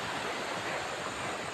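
Steady broadband rush of water flowing in a small stream in a natural setting, constant and close, without speech.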